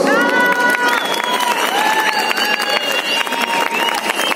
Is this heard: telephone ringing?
no